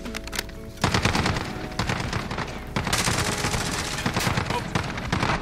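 RAM-7 assault rifle in Modern Warfare, firing loud sustained bursts of automatic fire with brief pauses between strings, close and dense, with the faint sound of talk mixed in underneath.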